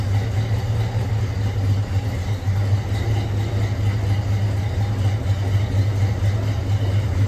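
A 1966 Ford Mustang, revived after sitting for 16 years, runs steadily through a transmission and brake test, its engine producing a continuous low droning hum close by, alone and unchanging throughout.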